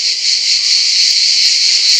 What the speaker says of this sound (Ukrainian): Одні цикади. І під їх спів засуну.